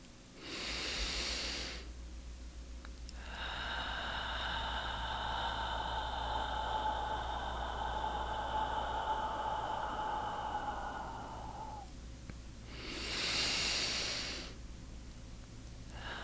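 One long, slow exhale hisses softly for several seconds, with a shorter sharp breath before it and another after it.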